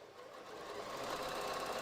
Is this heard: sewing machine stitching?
yes